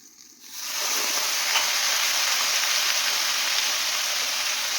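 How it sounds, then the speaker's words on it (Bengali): Hot water is poured into a pan of puffed rice ghonto, giving a loud, steady broadband hiss and splash that starts abruptly and carries on evenly, close up and with no talking. "এই এখানে আমি গরম জলটা দিয়ে দিচ্ছি"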